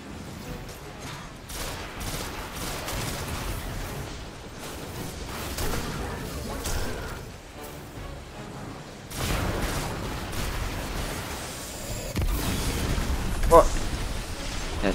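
Gunfire and explosions in Destiny 2 on Mars, with repeated shots and booming blasts rolling on under a player's talk, dense and loud throughout.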